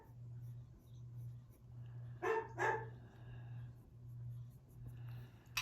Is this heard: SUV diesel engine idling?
no